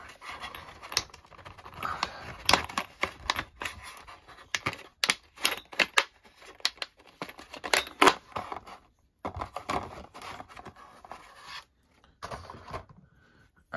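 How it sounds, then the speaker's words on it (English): A stapled package holding incandescent light bulbs is ripped back open up close, making irregular bursts of tearing, crinkling and rustling separated by brief pauses, with no talking. "This I'm gonna have to rip back open because I had stapled it."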